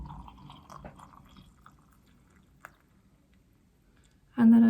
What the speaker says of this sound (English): mug, hot water, tea's already in here, like I said. I'm just gonna pour in.